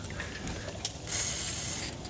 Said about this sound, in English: can you spray the bolts that are on the brackets too?